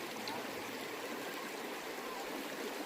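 The Choral River at a picnic and camping spot makes a steady, broad rush of flowing water that holds an even level throughout, with no break.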